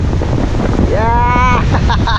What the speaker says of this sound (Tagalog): So ang lakas ng hangin